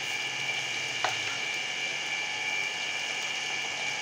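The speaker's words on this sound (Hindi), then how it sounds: "इसी तरह से अपने सारी बोटियों को फ्राई कर लेंगे" Chicken pieces fry in a pan with a steady, moderately loud sizzling hiss and a faint metallic click near the start.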